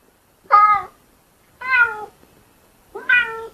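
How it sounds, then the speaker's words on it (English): Three clear cat meows from a smart speaker, spaced about a second apart, close and distinct against silence. "How does a cat sound?"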